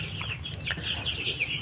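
Chickens and a rooster cluck repeatedly at close range on a small backyard farm, the calls bright and overlapping, with a rustle of movement among the birds.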